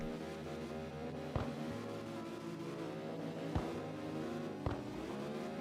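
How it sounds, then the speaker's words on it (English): Car engines in a racing video game drone faintly in the background with gliding pitch changes, broken by three short, sharp clicks spaced a couple of seconds apart. "I might turn the engine sounds down again, because, well, they're quite annoying"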